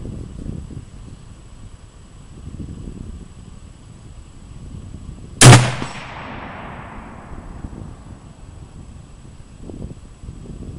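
One sharp gunshot from an M39 rifle with a ringing clang as it strikes a steel target, a fading metallic ring trailing off, heard outdoors amid light wind noise.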